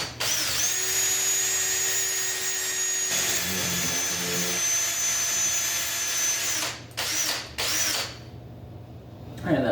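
Power mixer whirring steadily and loudly while stirring epoxy resin for a bathroom vanity countertop, running almost continuously before stopping and restarting briefly near the end.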